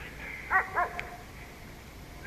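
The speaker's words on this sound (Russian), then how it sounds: "Где ты там гавкаешь, собаки?" A dog on the far bank of a snowy winter river barks twice in quick succession, distant and moderately faint over a quiet outdoor background.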